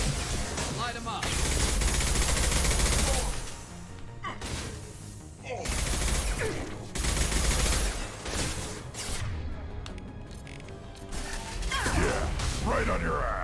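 Rapid bursts of automatic gunfire and heavy impacts from combat in Mass Effect 2 come in waves, loud and close, with brief lulls between volleys.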